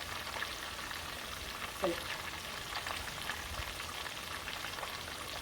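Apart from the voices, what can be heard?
Cajun crispy fish frying in oil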